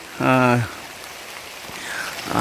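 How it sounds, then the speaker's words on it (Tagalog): Steady rain falls on a farm planted with beans and ampalaya, a soft continuous hiss across the whole stretch, with someone briefly speaking over it near the start. "continuous ang patak ng ulan"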